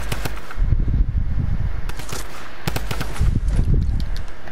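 Rapid gunfire bursts from a sniper in a shooting video game crackle loudly over a dense, busy backdrop, with clustered shots near the start and again around the middle.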